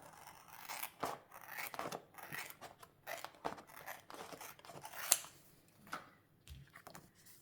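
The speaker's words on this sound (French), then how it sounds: "je vais découper les numéros que je ne me sers pas" Scissors snip close up through sheets of sticker number labels in a run of quiet, irregular cuts with brief rustles between them.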